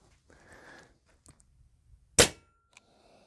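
A Crosman Crusher air rifle fires a single sharp, loud crack with a brief ringing tail, amid quiet handling clicks and rustling.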